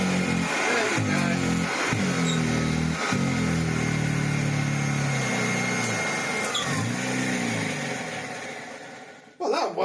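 A pair of 74-year-old antique vacuum cleaners, dusty and filthy, drone loudly and continuously with a coarse motor whine and a few bumps. The drone fades before stopping abruptly near the end.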